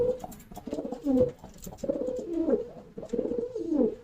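A medium-sized pigeon coos close by in repeated soft, throaty phrases, with short pauses between each call.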